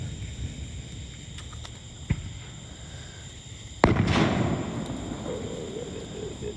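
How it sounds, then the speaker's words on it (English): Fourth of July fireworks are launched: a couple of light pops, then a loud sharp bang that spreads into a crackling, sizzling burst, set against quiet outdoor ambience. "the fireworks we just launched"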